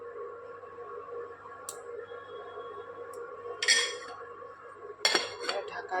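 Metal lid set onto a tea pot on the stove, a couple of bright clanks and rattles against a low steady background hum.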